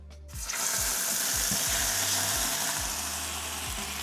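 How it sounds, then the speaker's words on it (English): Boiling water pours into a hot frying pan and erupts into loud, close, broadband sizzling that continues steadily, with faint low bubbling pops underneath. "I need to pour in the boiling water."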